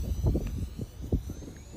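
An X-Fly Dual 40mm Twinliner twin-EDF RC model jet makes a pass at low, around 10% throttle, giving a steady whooshing rumble with faint whine. It stays fairly loud and continuous throughout.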